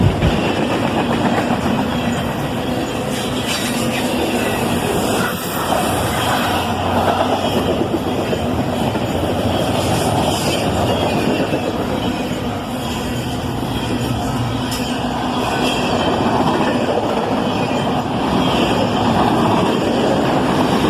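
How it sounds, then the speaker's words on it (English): A CSX ES44AC-H locomotive rolls by hauling an intermodal train, with a steady loud rumble and rail clatter holding throughout and no pauses. "And there goes that second locomotive, an ES44 ACH."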